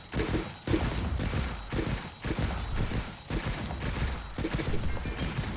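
A defensive gun turret in Stranded: Alien Dawn fires repeated bursts, fairly loud rattling volleys separated by short gaps in an uneven rhythm.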